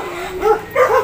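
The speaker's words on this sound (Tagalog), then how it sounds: "Tahulan ng aso." Dogs near a village path on Isla Masile in Malolos give two or three short, high yipping barks, fairly close and loud, with no talk over them.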